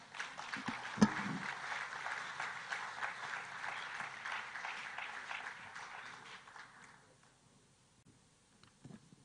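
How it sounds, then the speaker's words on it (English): Audience applause at a Ghana–German construction day event, a sustained burst of clapping from a crowd that lasts several seconds and then dies away. "Let's give them a hand of applause."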